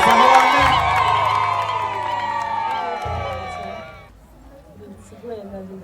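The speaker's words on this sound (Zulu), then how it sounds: "Asishaye ihlombe elikhulu bazalwane." At a wedding ceremony, a crowd cheers loudly with shrill whoops, ululation and shouting voices, sustained for about four seconds before fading into quieter murmuring.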